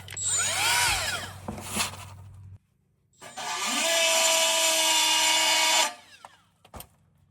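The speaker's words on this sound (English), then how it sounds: "I need a die grinder now." Die grinder working on a car exhaust, close and loud: a high whine with wavering pitch in a first burst, a pause, then a longer sustained shrill grinding run before it winds down.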